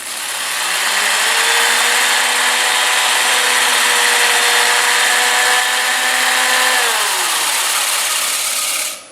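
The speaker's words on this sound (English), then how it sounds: "you have to lift up the sander so you're sanding on the bottom edge" A power sander works on a wooden bowl, a loud steady whine held for several seconds with a slight pitch drop near the end before it stops; no talking.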